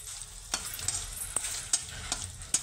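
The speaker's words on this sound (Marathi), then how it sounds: "टाक, हलवून घे. मिरची जास्त करपू द्यायची नाही" Green chillies fry in a hot pan, a soft continuous sizzle broken by several sharp scrapes and clacks of a spoon stirring them.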